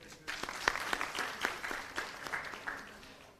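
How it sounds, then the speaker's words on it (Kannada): A small group claps at a moderate distance at a community event, scattered uneven hand claps continuing for a few seconds. "ಚಪ್ಪಾಳೆ ಬರಲಿ."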